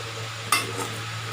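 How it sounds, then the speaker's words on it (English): Macaroni tossed with breadcrumbs, corn flour and rice flour gives a single sharp scrape of stirring midway through a short stretch, over a low steady hum. "Now we will mix it well"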